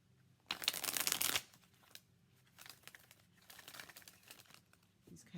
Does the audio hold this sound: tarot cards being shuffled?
yes